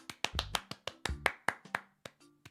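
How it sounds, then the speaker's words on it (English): A quick run of crisp hand claps, about a dozen sharp close bursts in an uneven rhythm, some slightly ringing. "What if somebody did clap?"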